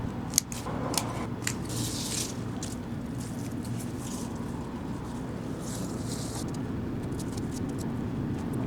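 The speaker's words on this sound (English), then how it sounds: "Now I am gonna cut the arugula. It is bolting, so it needs to go." Scissors snipping bolting arugula stems in a garden, a run of quick crisp cuts early on, then softer scattered snips over a steady outdoor background hum.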